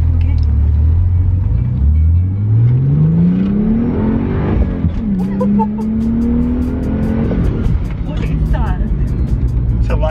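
A tuned BMW 135i accelerates hard, its engine note climbing through the gears with rising pitch and a brief shift dip, loud and close, while people talk over it.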